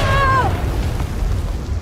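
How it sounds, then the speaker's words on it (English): A thermal detonator explodes in the Star Wars Outlaws video game, a heavy low rumbling boom that rolls on for nearly two seconds, with a brief voice at the very start. "Gotta love that she survives an explosion from a thermal detonator."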